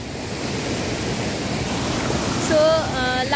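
Paglajhora waterfall near Siliguri, swollen and large, sends out a steady broadband roar of rushing water heard close and loud, with a brief tonal whistle near the end.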